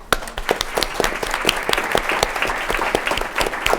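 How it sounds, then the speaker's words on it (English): Audience applause at an event honoring organ, eye and tissue donors, many distinct claps ringing out in a lively, uneven patter that holds steady throughout. "Round of applause."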